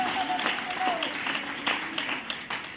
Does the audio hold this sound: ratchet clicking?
no